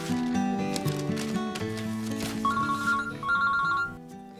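A telephone rings at home with repeated electronic trills in two short bursts, loud and close, with no talk over it.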